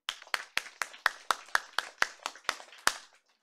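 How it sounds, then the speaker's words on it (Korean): A dozen steady, evenly spaced hand claps from a church congregation during a Sunday service ring out crisply at a moderate pace, then stop. "잠자지 말라고 지금 박수 쳐드리는 거예요."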